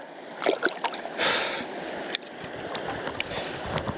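River water rushes and splashes steadily around a person sitting in a shallow Arizona river, with a few sharper close splashes standing out over the continuous broadband wash.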